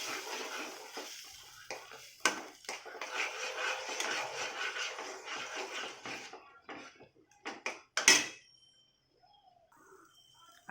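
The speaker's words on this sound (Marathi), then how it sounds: "छान त्याला हलवून घ्यायचं आहे।" Sweet semolina sheera is stirred in a pan, a soft continuous scraping and rustling with a few knocks, then a loud clank near the end before things go quiet.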